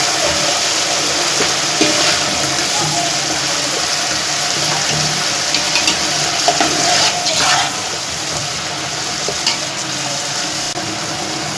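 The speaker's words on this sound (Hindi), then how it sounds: "इसी के साथ इसमें हरी मिर्च का मसाला भी डाल देंगे और इसको भून लेंगे" Green chili masala frying in a pan with potatoes for chicken aloo pulao: a continuous loud sizzle with occasional stirring scrapes, close up and without talk.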